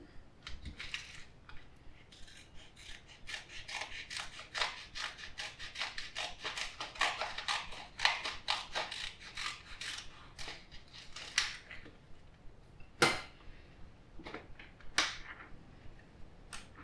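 Scissors snipping open the plastic bag of an oyster mushroom grow kit, a dense run of close, crisp cutting and rustling clicks followed by a few sharper isolated snips near the end, with no talking.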